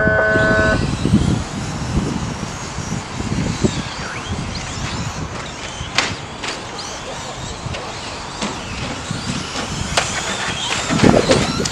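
An air horn starts a 2WD short course RC car A-main race in a parking lot: a short tonal blast at the very beginning, followed by a steady wash of outdoor crowd and vehicle noise with voices talking.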